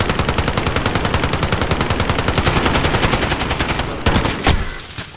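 Rapid automatic gunfire in Call of Duty rattles in a steady fast burst for several seconds, loud and close, ending with a few heavier separate shots.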